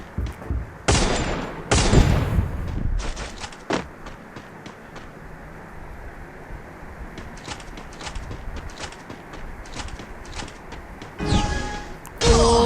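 Gunfire in a shooter video game, with several loud bursts and single shots early on, then a steady rattle of rapid shots over background game noise, ending in another heavy burst.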